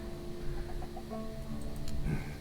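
Chickens cluck in the fantasy game Tainted Grail: The Fall of Avalon, a few faint, short clucks over a low background hum.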